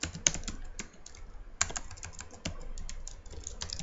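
Close, steady typing on a computer keyboard, with irregular bursts of light key clicks and a few sharper keystrokes, and no talking.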